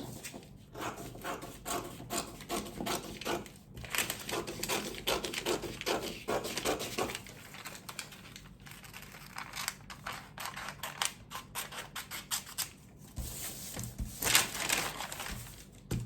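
Steady run of scissors snipping and rustling through a paper blouse pattern, close and fairly loud, with crisp cuts and crinkling paper continuing almost without pause.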